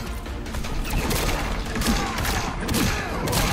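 Rapid gunfire from Hellboy's gun in the fighting game Injustice 2, a dense, continuous burst of shots and clattering mechanical noise filling the whole stretch, with no talk over it.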